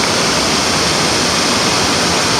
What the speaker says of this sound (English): The only waterfalls I can find around here are dam waterfalls.